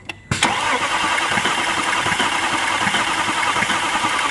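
Car engine cranking on the starter during a compression check: after a brief quiet moment, a sudden loud onset of steady, dense mechanical whirring and churning continues close by without a break, with no speech.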